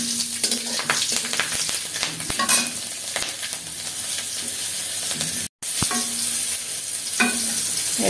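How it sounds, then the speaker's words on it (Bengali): Nigella seeds and three green chillies fry in hot oil for a fish curry. A close, steady sizzle and hiss runs under repeated spoon or spatula scraping and stirring, broken by a brief gap of silence. "ওই তেলে অল্প একটু কালি জিরা, তিনটা কাঁচামরিচ আর একটু কালি জিরা দিয়েছি।"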